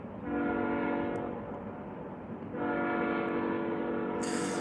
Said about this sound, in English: That train's giving me a victory parade.